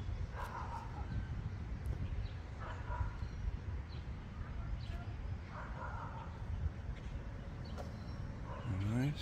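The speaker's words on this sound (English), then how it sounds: "as the dogs bark" Dogs bark repeatedly in the distance outdoors, faint intermittent yips over a low background hum.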